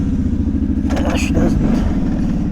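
A 2005 Arctic Cat V2 650 4x4 ATV fitted with Kimpex tracks roars loudly and steadily as all four tracks spin, its engine note holding high throughout, with a few rattling clatters on top.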